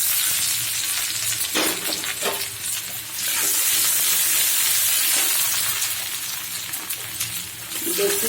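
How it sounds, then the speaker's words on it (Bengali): Onions frying in hot oil in a kadai, a steady loud sizzle with occasional stirring scrapes, close up and continuous with no talk. "পেঁয়াজগুলো ভেজে নিচ্ছি"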